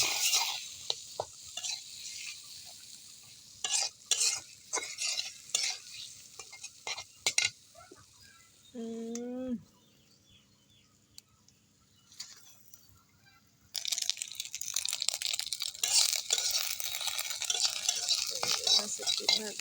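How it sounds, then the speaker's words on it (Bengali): Fish roe frying in a pan, stirred with scraping utensil strokes in short bursts, followed by a louder sustained sizzle toward the end, with a brief voice-like tone in the middle. "মাছের ডিম ভাজা হয়ে গেল।"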